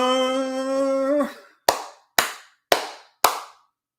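Four sharp hand claps, evenly spaced and loud and close, following a short burst of a sustained tone, with no talk over them.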